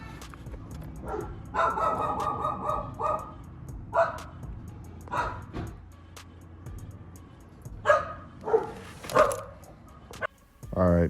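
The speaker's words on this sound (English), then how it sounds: "them dogs make it hard to record around here" Several dogs bark repeatedly in irregular bursts, some sharp and near, over steady low background rumble, with short gaps between volleys near a garage during a car inspection and junk cleanout.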